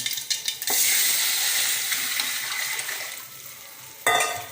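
Anchovies (nethili) sizzle and hiss as they fry in a pan, a steady bright crackle broken by a few sharp stirring scrapes at the start and a louder burst near the end.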